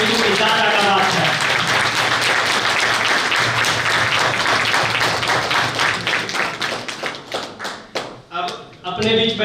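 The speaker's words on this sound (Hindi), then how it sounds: "दादा के लिए एक बार जोरदार ताली हम सभी थेरेपिस्टों की ओर से और सभी स्टूडेंट की ओर से ताली में दम आना चाहिए" An audience at an all-India neurotherapist convention claps loudly in a dense, sustained burst of applause that thins into scattered individual claps near the end.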